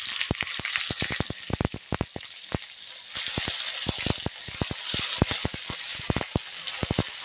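Ginger paste sizzles in a frying pan, a bright continuous hiss punctuated by frequent sharp clicks and taps of a utensil against the pan, close and moderately quiet.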